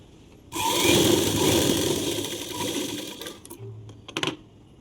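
A sewing machine stitches cloth for a two-year-old's baby umbrella frock. It runs in one steady, loud burst for nearly three seconds, then stops, followed by a few brief clicks and handling sounds.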